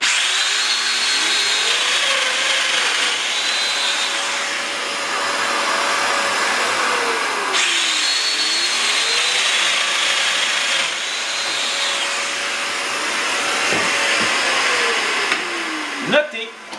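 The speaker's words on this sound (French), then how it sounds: "Et on perce la même chose." Festool Domino joiner plunging into wood with a dust extractor running, a steady high whine that cycles through several cuts, rising and falling in pitch, close and loud, ending with a few sharp knocks.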